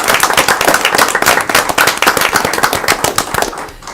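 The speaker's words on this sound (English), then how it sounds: "Give them a round of applause." Attendees at a town council meeting give a round of applause, sharp close-up handclaps in a quick, crackling stream that thins slightly toward the end.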